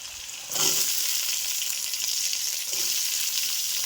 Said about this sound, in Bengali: এবার আলুগুলো পেঁয়াজের সাথে সুন্দরভাবে একটু ভেজে নিব